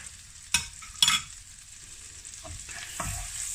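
Vegetables cook in a stir-fry pan with a soft, low hiss, broken by a few sharp clatters of a utensil against the pan. Everything sounds close and quiet, with no talking.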